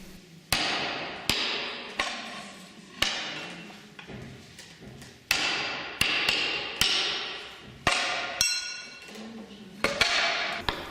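Slate is split by hand at a slate museum demonstration: about a dozen sharp, ringing tool strikes land at irregular intervals, each fading quickly in a reverberant space.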